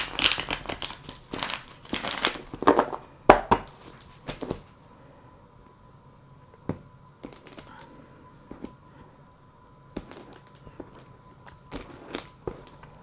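Tarot cards are shuffled by hand in a dense run of close, crisp riffling clicks and flutters for the first few seconds, followed by a few sparser taps and card slaps, with no talking.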